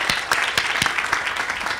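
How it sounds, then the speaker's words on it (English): Audience applause at an outdoor groundbreaking ceremony for a housing development, steady dense clapping with a few sharper individual claps standing out, close and sustained throughout. "please, let's give her a round of applause for what she's already done."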